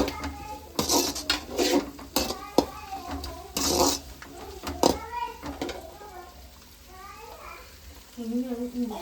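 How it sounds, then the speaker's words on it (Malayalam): Garlic stirred in a cooking pan, with a spatula clattering and scraping against the metal in irregular bursts while people talk over it throughout. "അപ്പോൾ നമുക്ക് നന്നായിട്ട് ഇങ്ങനെ ഇളക്കി കൊടുക്കാം"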